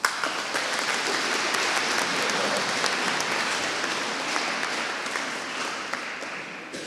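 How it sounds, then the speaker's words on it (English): An audience at a university graduation ceremony claps for a psychology graduate, a dense, steady wash of applause from a large hall that holds evenly and fades slightly toward the end, with no talking over it. "I'm sure we can do better than that on the clapping"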